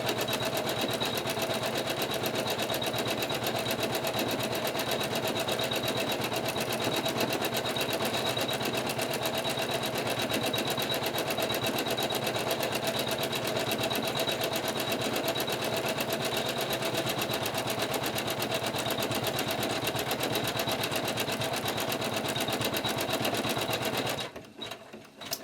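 Sewing machine running a decorative stitch on a quilt square, a continuous fast mechanical whir and needle chatter held steadily for over twenty seconds before stopping abruptly near the end.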